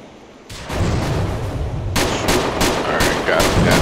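Gunfire in the video game GTA 4, with an RPG also being fired: after a brief quiet lead-in, a loud, dense burst of rapid shots erupts and keeps going in fast, overlapping volleys, close and continuous.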